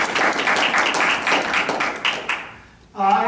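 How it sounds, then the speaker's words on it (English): A round of applause at a municipal council meeting, brisk clapping that fades out after a couple of seconds before a voice starts talking. "Take a round of applause"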